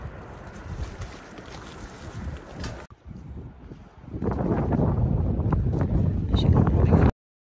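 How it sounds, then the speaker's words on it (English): Wind gusts buffet a backpacking tent near Dardanelles Lake on the Tahoe Rim Trail, a rushing, flapping roar that drops briefly, then returns louder and more turbulent before cutting off. "getting windy. I expect it's going to get worse."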